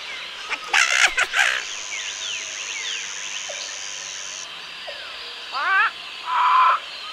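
A parrot calling with raspy squawks and sweeping whistled notes, loud harsh bursts near the start and again near the end, separated by quieter chirps over a faint steady background.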